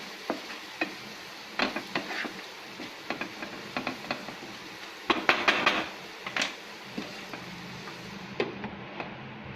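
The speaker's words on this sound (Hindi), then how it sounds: "अब अच्छे से इन सबको मिक्स करेंगे और इसको ढक के पकाएंगे" A spoon stirs a tomato and dal mixture with coriander powder in a pan over a low flame, making scattered scraping and clinking strokes against a faint sizzle, with no voices.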